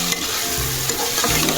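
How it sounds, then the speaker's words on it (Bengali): A poppy seed and green chilli paste fries in oil while it is stirred, making a steady close sizzle with soft scraping strokes throughout and no voices. "এবার এটাকে আবার তেলের ওপরে ভালোভাবে কষাতে হবে, যতক্ষণ না তেল ছাড়ছে ততক্ষণ আমি কষিয়ে নেব।"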